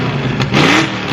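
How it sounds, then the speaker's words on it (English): Ford Coyote V8 swapped into a 1968 Mustang Fastback, revving through a loud, aggressive Pypes Performance exhaust: a short, close burst with a brief throttle rise in the middle. "Gotta love that Pypes Performance exhaust."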